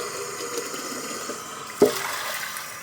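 Hot water is poured directly onto a coffee maker filter during cleaning, giving a soft continuous splashing hiss with a brief louder splash partway through, close by and without talk.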